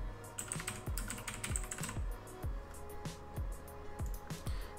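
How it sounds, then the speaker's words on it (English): Fingers type on a computer keyboard in a quick, irregular run of close clicking keystrokes that continues steadily throughout, with no speech. "So right over here, I'm gonna type in my secondary title or text you can see."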